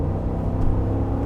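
A 2021 Chevy Tahoe under full throttle, heard from inside as a steady, loud low engine drone with a faint rising whir, no talking.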